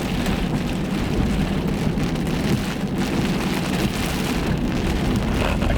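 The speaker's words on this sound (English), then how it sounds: "it just started pouring rain" Heavy rain pours down steadily, a dense, even hiss of drops striking surfaces close by, with faint thunder in the background and no talking.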